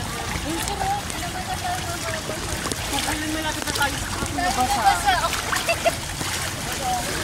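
Flood water splashes and sloshes through the clip on a street in Balintawak, with passing vehicles churning waist-deep water and voices talking in the background.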